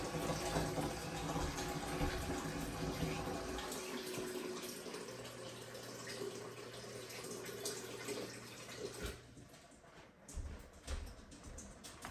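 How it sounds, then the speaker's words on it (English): Cold tap water runs steadily into a pot for homemade vegetable beef soup, a close, even splashing rush that thins out near the end into a few drips and clunks. "I'm going to add maybe a cup of cold water in there"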